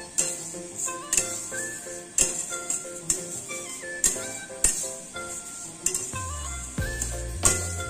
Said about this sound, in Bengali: ক্রমাগত এইভাবে নাড়তে থাকতে হবে, না হলে কিন্তু ডাল পুড়ে যাওয়ার সম্ভাবনা থাকবে।